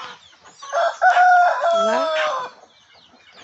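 A rooster on a farm at night crows once loudly and close, a long rising-then-falling call with clucking around it; a voice says a brief word.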